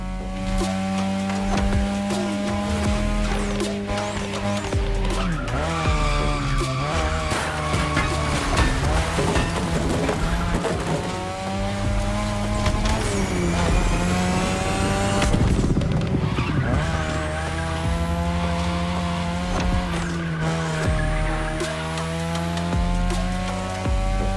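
Race cars tear through a street race in The Crew Motorfest, engines roaring loud and close with rising and falling revs, gear shifts and squealing tires skidding through corners, continuous with no talking.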